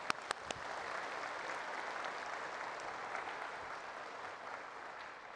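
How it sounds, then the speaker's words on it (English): A church congregation claps for the Lord during an Easter homily, a steady, faint, distant wash of applause with a few sharper claps at the start. "So, let us clap for the Lord."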